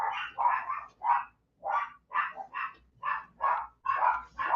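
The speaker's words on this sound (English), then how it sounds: "Do I let the dogs bark?" Dogs bark repeatedly in bursts at someone at the door, a series of close, loud, sharp barks with short pauses between them.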